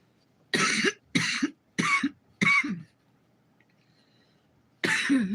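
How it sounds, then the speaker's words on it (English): Four harsh coughs in quick succession, close and fairly loud, then about two seconds of near silence before a fifth cough starts. "that was the first time I coughed"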